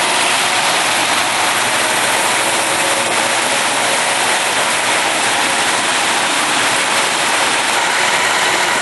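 A loud, steady Ford 302 or 351W V8 engine idles close by with the vacuum advance hose disconnected, a dense continuous rumble with hiss that holds evenly throughout.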